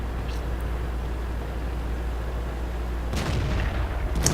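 A tier 10 heavy tank's cannon in the World of Tanks video game fires with a sharp boom near the end, after seconds of steady engine rumble and battle noise.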